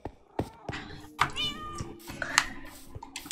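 A cat in the Minecraft video game meows several times in quick, uneven succession, close and clear, mixed with scattered clicks and taps like keyboard typing.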